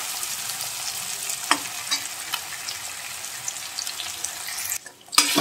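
Chopped tomatoes frying in a pan with onions and salt for a masala mushroom curry, a steady close sizzle with a few light stirring knocks and scrapes, then a brief quiet gap before the frying returns at the end.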